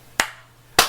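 A group of people clapping their hands together on a count, heard as two sharp, loud claps separated by a short pause, with no voices.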